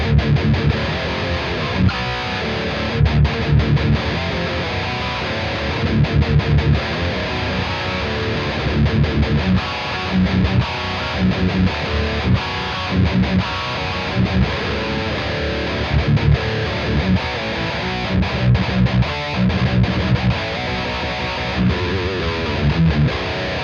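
Electric guitar played through the Groove Lab Axonic amp simulator on its default settings, with the output turned down slightly; a dense, distorted amp tone plays continuously with rhythmic picked accents for the whole stretch, loud and with no voice.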